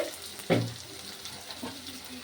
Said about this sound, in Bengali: আমি একটু নাড়াচাড়া করে নিচ্ছি ভালো করে।